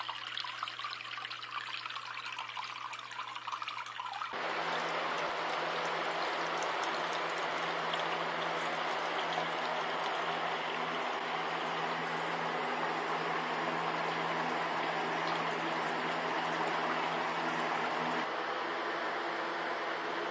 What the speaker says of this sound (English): See the water flow there.